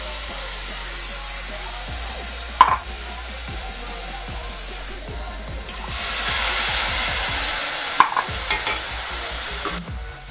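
Tomato puree frying in a pan with cumin, turmeric and coriander powders for Punjabi rajma curry, a continuous close sizzle with stirring scrapes and clinks, swelling louder midway.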